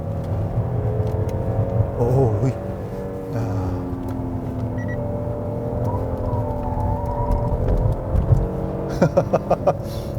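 A 2020 Kia K9 3.3 Turbo driven on a mountain road, its engine humming and rising steadily, with tire and road noise and brief clicks near the end.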